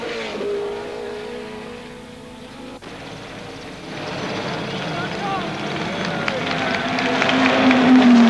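A Porsche 917 sports racing car, a 600-horsepower machine, drives past with a rising engine drone that grows louder toward the end, under a steady background of broad noise; a commentator's voice is present.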